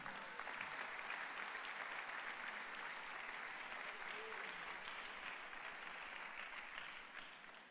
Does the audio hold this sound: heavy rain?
no